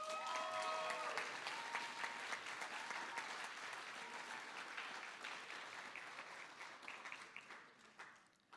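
An audience at a school Black History Month assembly applauds in a sustained, dense round of clapping that slowly thins and fades near the end, heard from within the hall.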